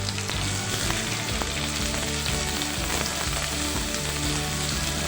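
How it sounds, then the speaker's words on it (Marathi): Two finely chopped medium onions with curry leaves sizzling in hot oil in a pan for an aloo gobi masala, a loud, continuous crackle and hiss with faint stirring, steady throughout and with no voices. "कांदा चांगला ब्राऊन होईपर्यंत आपण भाजून घेऊया।"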